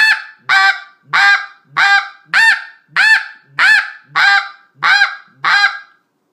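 A Basin Calls WhiteDevil Snow goose call is blown in nine evenly spaced, loud, close honks with short silences between them, imitating a snow goose.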